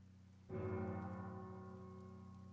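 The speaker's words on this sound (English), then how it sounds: "For whom the bell tolls." A single church bell tolls once in a fantasy game town, a loud ringing strike followed by a long, slowly decaying hum with no voices.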